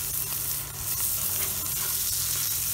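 Burgers just flipped on a Watchman stove sizzle steadily and close, a continuous hiss of frying with faint scrapes and no talking.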